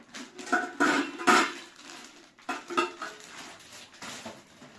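A stainless steel pot and lid clank and scrape in a few short bursts, handled up close while being unboxed, with quieter rustling between the clatters.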